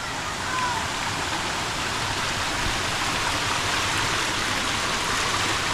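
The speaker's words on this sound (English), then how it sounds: "Pretty cool waterfall this way" Rushing water from a waterfall in a cave roars continuously as a dense, even hiss, steady and fairly loud with no pauses.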